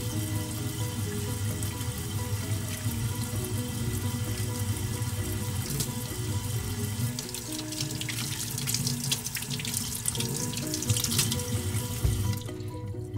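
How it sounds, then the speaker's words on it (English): Warm tap water runs steadily into a sink while eyeglasses are rinsed beneath the stream, a continuous close splashing rush with no talking. "Next, you're going to rinse your glasses under warm water."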